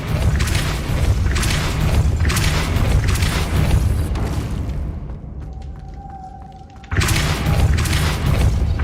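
Depulso spell impacts in the Hogwarts Legacy video game land as loud, repeated booming bursts. A quieter stretch with a thin tone follows before another heavy blast.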